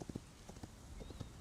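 Horse hooves in the video game Hytale, a quiet run of soft, slightly irregular clip-clop steps, with a faint tone sounding briefly in the background.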